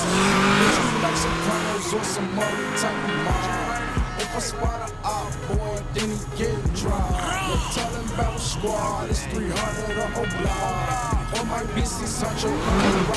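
A car race through the port in the video game GTA: engines rev up and down in sweeping tones, with tire squeals and skids throughout, loud and continuous.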